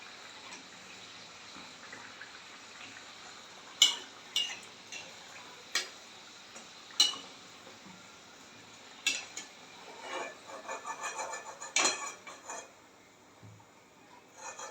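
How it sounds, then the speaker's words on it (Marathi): Jowar vadas being flipped as they fry in oil in a kadhai: a steady, faint bubbling hiss with a handful of sharp clicks and taps from turning them, then a busier stretch of crackle toward the end, no talk. "वडे मी उलटून घेते आहे."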